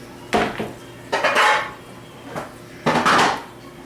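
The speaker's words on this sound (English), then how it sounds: "I am going to get my trays that I have down here and butter them." Metal baking trays clatter and scrape in a kitchen during big Thanksgiving feast cooking, three loud bursts of rattling with short gaps between, no talking.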